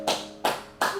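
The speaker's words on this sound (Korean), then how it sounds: "오늘 선생님 박수 쳐줄게." A teacher claps hands three times at an even, unhurried pace, each clap crisp and close with a short ringing tail in a quiet room.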